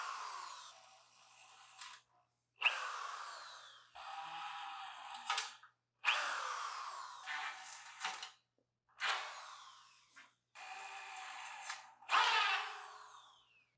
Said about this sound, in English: Then we'll use our 5/16 to drill out the rest of the spot weld.